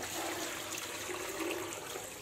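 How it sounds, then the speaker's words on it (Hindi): Water pours steadily into a pressure cooker holding paya (goat trotters), turmeric and whole spices, a continuous close splashing trickle with no talk. "और अब डालेंगे इसमें पानी।"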